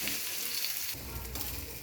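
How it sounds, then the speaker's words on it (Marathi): Onion fries in hot oil with cumin and curry leaves, giving a steady, loud, close sizzle and crackle while being stirred, with no voices. "कांदा असा हलवून घ्यायचा मस्त असा."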